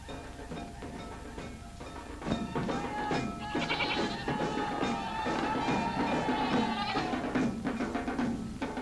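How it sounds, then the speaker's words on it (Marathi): Goats bleat in a 1944 Marathi devotional film scene set in a village. Several wavering cries repeat throughout at steady, fairly loud volume over a dense, noisy old-film background. "पण आपली बकरी का ओरडतात"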